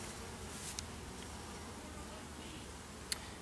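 Bees hum at an open top bar hive during an inspection, a low steady drone from the colony with a couple of brief sharp knocks over it.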